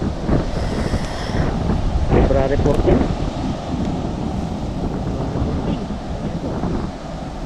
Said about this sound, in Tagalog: grabe nga hangin yan.